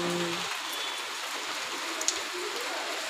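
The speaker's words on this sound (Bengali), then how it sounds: "বৃষ্টি পড়ছে।" Steady rain hisses down, a soft, even patter with no voices.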